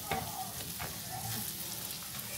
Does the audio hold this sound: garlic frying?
yes